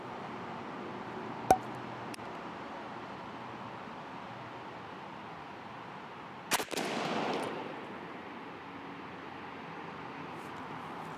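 A 28 gauge shotgun firing Foxtrot TSS number 9 shot outdoors: a sharp crack early on, then a louder blast with a brief rolling echo several seconds later, with no talk.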